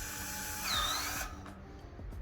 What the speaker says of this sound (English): they got 4 holes, so we'll drill these bad boys in.